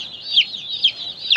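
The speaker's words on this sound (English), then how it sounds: "Devin, what do you think about all these chickens?" Baby chicks on a farm, among a large new batch of about a hundred, keep up continuous shrill peeping close by, with a few louder cheeps rising above the chatter.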